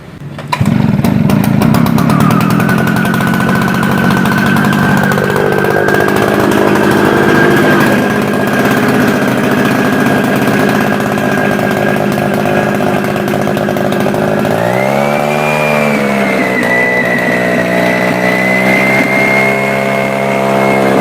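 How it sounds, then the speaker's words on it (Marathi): A loud road-cleaning machine engine starts and runs steadily for a long stretch, a droning motor close by, its pitch shifting as it revs up partway through. "रोडवरती वगैरे जेव्हा काम चालू असतं ना तेव्हा साफसफाई करण्यासाठी धूळ वगैरे जमा होते साईडला त्याच्यासाठी ही मशीन वापरतात"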